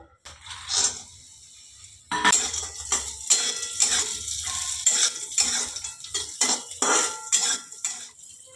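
Cashews and raisins fry in a spoonful of ghee, a light sizzle under frequent close clinks and scrapes of a metal spoon against the pan.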